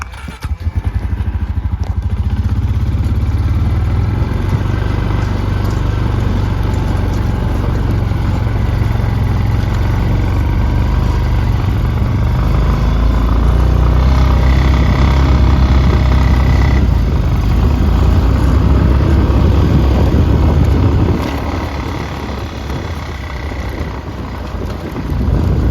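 A vehicle engine drones steadily and loudly while climbing a snowy hill on a cattle pasture, with wind buffeting the microphone throughout and the motor easing off near the end.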